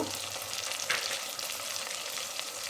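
Ginger garlic paste fries in a pan for an Andhra-style gongura curry, a dense, steady close sizzle with one brief louder hiss of spattering, and no voices.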